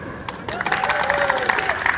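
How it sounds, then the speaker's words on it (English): A crowd at a Covent Garden street show breaks into applause and cheering, dense clapping building after a quiet start and holding steady, with a voice calling out over it. "this lot, go crazy with applause"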